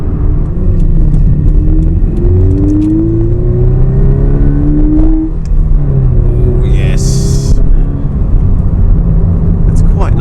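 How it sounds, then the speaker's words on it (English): A 2020 Toyota 86 GTS four-cylinder coupe engine drones loudly and revs through rising and falling pitch sweeps, with a steady heavy rumble throughout. "For a 4-cylinder engine, this car has a nice little crackle to it actually that comes out of the exhaust"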